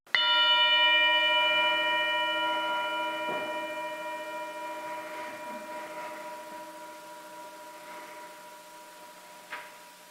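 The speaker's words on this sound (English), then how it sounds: "I'm going to ring the bell as I usually do." A single bell is struck once and rings out with a clear, sustained metallic tone that slowly fades over about ten seconds, with faint background noise and a small knock near the end.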